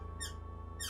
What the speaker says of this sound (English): My chair's squeaking again.